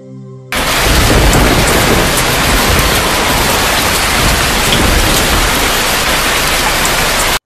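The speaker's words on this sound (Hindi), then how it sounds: "अरे वो देखो, बारिश हो रही है" Steady heavy rain pours down close by, a dense hiss that starts abruptly and holds at full strength, with deep low rumbling underneath suggesting thunder.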